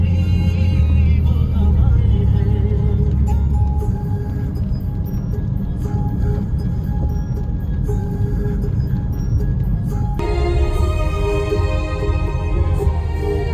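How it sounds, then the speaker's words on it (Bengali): A car drives through light drizzle, heard from inside the cabin as a steady, loud low road rumble and engine drone that continues throughout. "বৃষ্টিতে গাড়িতে ঘোরার মজাই আলাদা।"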